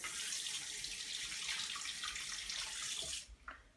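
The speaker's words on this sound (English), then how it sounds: "Wash the brush." Paintbrush being rinsed under running tap water, a steady close splashing rush of water that stops abruptly near the end, followed by a couple of faint knocks.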